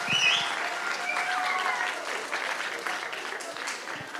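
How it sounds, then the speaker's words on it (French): An audience applauds at a stage performance paying tribute to the history of slavery, a dense, sustained clapping of many hands that fades slightly toward the end, heard alone without speech. "vous pouvez les applaudir avant"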